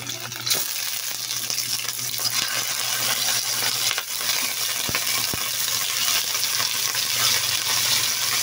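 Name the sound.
stirring onions frying in pan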